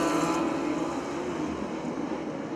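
Sprint cars of the California Lightning Sprints racing at Perris Auto Speedway, a continuous loud engine roar with a steady buzzing drone that holds near and constant throughout.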